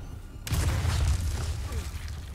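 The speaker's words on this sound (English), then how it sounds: "I knew the explosion was gonna happen" Explosion in the video game Resident Evil 4 Remake: a sudden deep boom that bursts in after a quiet moment and rumbles on for nearly two seconds, loud and close.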